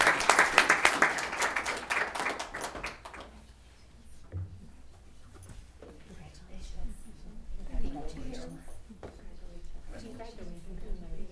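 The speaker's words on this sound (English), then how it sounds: "how about one round of applause for our senior scholars?" Audience applause for senior scholars at a school committee meeting, a dense burst of clapping for the first few seconds that fades into murmuring room noise and scattered handling sounds.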